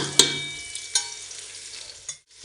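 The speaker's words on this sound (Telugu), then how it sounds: "పల్లి ఆయిల్లో వేపుకోవాలి. ఉల్లిపాయలు ప్లస్ టమాటా గోల్డ్ కలర్ వచ్చే వరకు." Onions and tomato frying in peanut oil, a close hissing sizzle punctuated by a couple of sharp utensil clacks against the pan, fading out briefly near the end, with no one talking.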